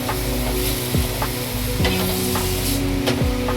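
A wooden spoon stirs food in a hot kadhai, scraping repeatedly over a constant frying sizzle, several distinct strokes close up with no talking.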